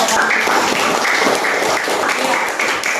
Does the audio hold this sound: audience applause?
yes